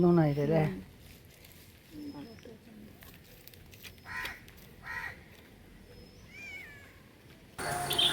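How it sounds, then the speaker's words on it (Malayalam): A cat meows a few times at moderate distance over a quiet outdoor background, with louder bursts of noise at the start and end. "പോ പൂച്ചേ പാട്ട് പാടി നടക്കാണ്ട്"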